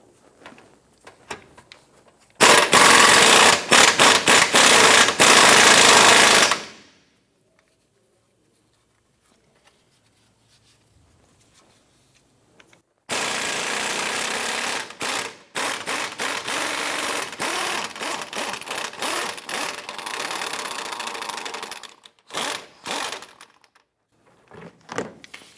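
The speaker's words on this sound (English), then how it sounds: "I'm going to use a 22mm socket on our impact gun here. Let's go ahead and loosen this bolt." Impact gun with a 22mm socket loosening a bolt on a 2007-2012 Nissan Versa control arm link: a loud, close rattling burst of about four seconds, a pause, then a longer hammering run of about nine seconds that ends in short stuttering bursts.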